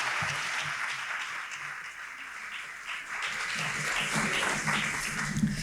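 An audience at a 1985 evening talk on the shape of the city applauds in steady, moderately loud clapping that swells slightly toward the end, heard alone without voices.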